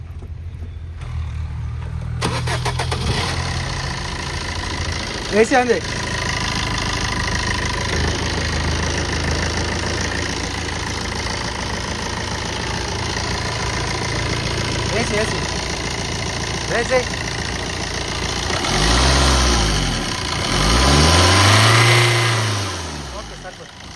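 A Tata Zest XE Quadrajet 1248 cc diesel engine idles with a steady low rumble, the car from 2020, while someone talks over it and a couple of brief revving swells rise near the end.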